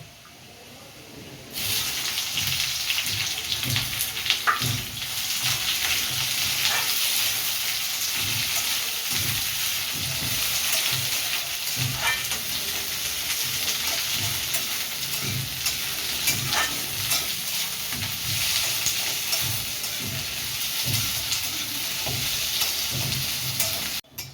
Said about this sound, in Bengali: রসুনটা ভাজা ভাজা করে নিলাম। এবার পেঁয়াজ দিয়ে দেবো।